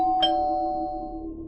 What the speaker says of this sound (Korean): 토마토 소스를 완성하고 주방 정리가 끝날 때쯤 초인종이 울렸다.